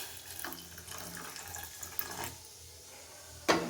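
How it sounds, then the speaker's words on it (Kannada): Water is poured from a tap or vessel onto jaggery in a cooking pot for moong dal payasa, a soft steady trickle with a few splashy bursts and a sharper pour at the end. "ಬೆಲ್ಲಕ್ಕೆ ಒಂದು ಸ್ವಲ್ಪ ನೀರು ಹಾಕ್ಕೊಳ್ಳೋಣ"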